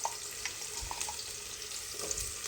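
Potato pieces sizzling in a pan of sautéed onion for a simple khichdi, a steady soft frying hiss with light scraping and clinking of stirring throughout.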